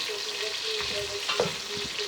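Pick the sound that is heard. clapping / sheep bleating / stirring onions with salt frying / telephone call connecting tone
stirring onions with salt frying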